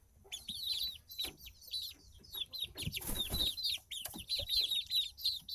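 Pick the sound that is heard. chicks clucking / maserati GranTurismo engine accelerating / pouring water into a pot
chicks clucking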